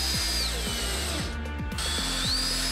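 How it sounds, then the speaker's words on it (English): A power driver runs wood screws through a brass angle into a wooden box inside a truck bed, giving a close, loud, steady mechanical whir with a rapid ratcheting clatter throughout. "With 3 wood screws, I mount the brass angle"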